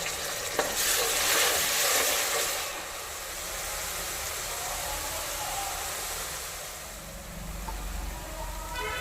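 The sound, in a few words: frying onion, ginger and garlic paste in oil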